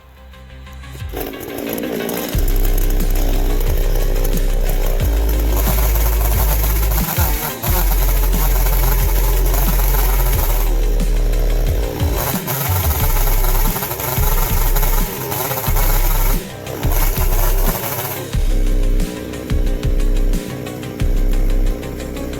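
A chainsaw mills bumps off sill logs so floor joists sit flat, its engine roaring loud and steady under cutting load for most of the stretch, with brief dips and rev changes as the cut shifts.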